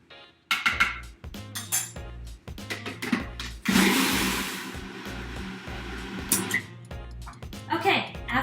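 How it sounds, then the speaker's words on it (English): Hummus with fresh lemon juice and salt is pureed in a blender, whose whirring roar comes in a burst of a second or so and then fades, with talking and clinking kitchen sounds around it. "after a couple of minutes, 2 to 3 minutes of pureeing, we have the hummus ready"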